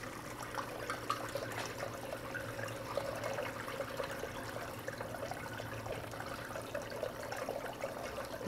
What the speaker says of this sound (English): Now I just slowly fill the bucket up with a little bit of water